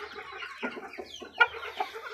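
An Aseel rooster clucks nearby in a series of short, uneven clucks, close and fairly quiet, with a louder accented cluck partway through.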